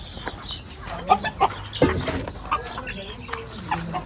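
Caught chickens clucking in short, scattered bursts at close range, with intermittent background noise and some low voices.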